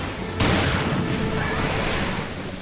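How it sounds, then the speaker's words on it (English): A grenade detonates in Resident Evil Revelations with a sudden loud boom. A broad rumbling wash of noise follows and slowly fades over the next two seconds. "as that cutscene happens, the grenade will detonate"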